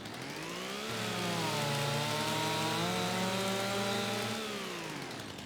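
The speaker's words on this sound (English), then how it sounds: "you can find the beautiful chainsaws" A chainsaw in Farming Simulator 25 runs continuously, revving up to a steady high-pitched whine and then dropping back down, loud and close.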